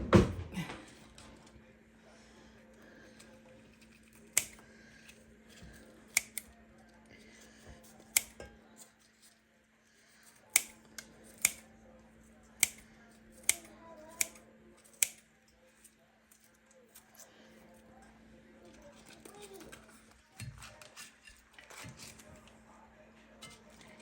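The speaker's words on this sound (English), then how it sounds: "I'm just going to cut that up with scissors" Scissors snip through strips of microwave bacon for a broccoli and cauliflower salad, a series of sharp, close clicks and crunches spaced irregularly over a quiet kitchen background.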